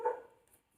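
A single short dog bark sounds outside at night, moderately close and then fading into quiet.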